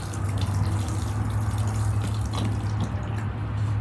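Water is poured onto potting soil while starting plants for a flower farm, giving a continuous trickling, filling sound over a steady low hum, with no talking.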